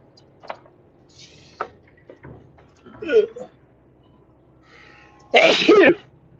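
A sneeze bursts out close and loud near the end, following scattered coughs, throat noises and small clicks inside a vehicle leaving a construction zone, with brief talk around it.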